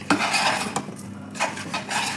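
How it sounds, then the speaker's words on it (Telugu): Mango pieces get mixed with chili powder for avakaya pickle, giving a few close scraping and clinking strokes of a utensil against a vessel, short and irregular, with no voices. "ఇంట్లో కారం కలుపుతున్నాము"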